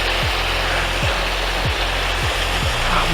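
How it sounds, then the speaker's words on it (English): A small waterfall beside a Lake District fell path near Buttermere gives a steady, full rushing wash of water, with a few soft low thumps repeating underneath. "This little waterfall there."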